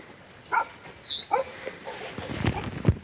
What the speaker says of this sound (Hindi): ये देखो कुत्ते भी भौंक रहे हैं सुबह सुबह